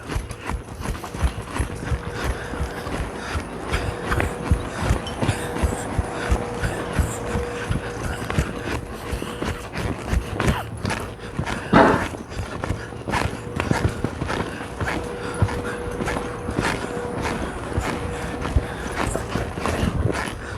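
Hooves of a horse being ridden and schooled by a trainer clip-clop in a steady, rapid gait for the whole stretch, loud and close, with no voices.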